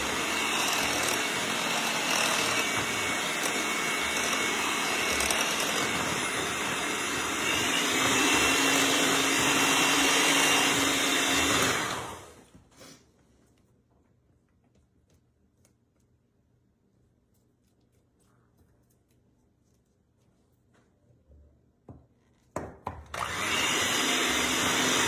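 An electric mixer whirs steadily on a low speed through spice cake batter, a loud continuous motor drone that cuts off abruptly midway, leaving near silence before the motor starts up again at the end.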